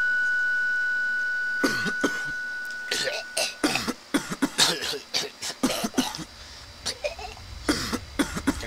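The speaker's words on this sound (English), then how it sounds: "Can you stop coughing the same exact cough? It's kind of repetitive." In the Amnesia video game, the same cough repeats again and again in short, loud bursts with brief gaps between them.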